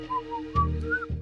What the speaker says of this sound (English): Stop whistling. You're drawing attention to yourself.